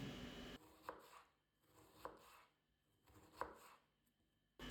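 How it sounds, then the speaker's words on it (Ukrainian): A knife finely chops onion on a cutting board in three distinct bursts of rapid taps, each rising to a sharp knock, with short quiet gaps between. "Беру пів цибулини та нарізаю дрібненько."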